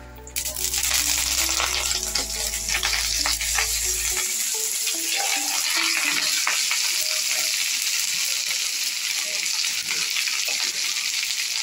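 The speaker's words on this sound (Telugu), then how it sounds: "కొద్దిగా ఆయిల్ వేసి కరివేపాకు వేయించుకున్నాం" Curry leaves sizzle and crackle as they hit hot oil in a pan for a Telugu karivepaku pachadi, giving a loud, continuous frying hiss with some stirring scrapes and a low hum at the start.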